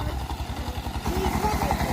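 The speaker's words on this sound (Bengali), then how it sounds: "12 গোড়া মেশিন দিয়া সিঁচতেছে, দেখতে পাচ্ছেন" A motor-driven 12-horsepower water pump drains a fishing pond, its engine chugging in a steady, rapid pulse close by. The tone rises slightly partway through, and there is a hint of voices beneath the engine.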